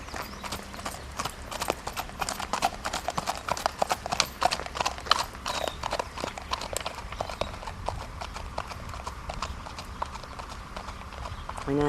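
Horse hooves trotting in a foxtrot gait, a steady, quick and uneven clip-clop of hoofbeats that carries on for the whole stretch, close and clear, with a voice faintly present underneath.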